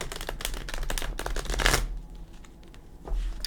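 Light Seers tarot cards are shuffled by hand in quick riffling bursts, crisp and close, followed by a quieter pause and a final soft shuffle.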